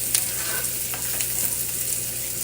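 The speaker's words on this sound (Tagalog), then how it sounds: "Ayan, tusta-tusta ko muna yung karne." Meat searing in a pan as the first step of a Filipino banana heart dish, a steady close sizzle and frying hiss with faint stirring scrapes, no voices.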